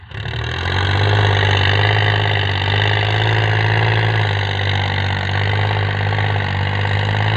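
A 40-horsepower farm tractor engine runs steadily at idle while preparing rice-field soil, a loud close low throbbing drone that holds an even pitch with a slight dip partway through.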